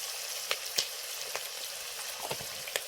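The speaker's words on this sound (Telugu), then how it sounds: "బాగా కలుపుకొని ఈ ఉల్లిపాయలన్నీ మగ్గిపోవాలండి" Chopped onions with turmeric and salt fry in a pan, making a soft, even sizzle with a few sharp pops and crackles scattered through it.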